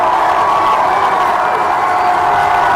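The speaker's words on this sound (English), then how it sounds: "Lincoln crowd making some noise." Loud, dense roar of a football crowd in Lincoln cheering and shouting during an overtime goal-line stand, a steady wall of noise with no letup.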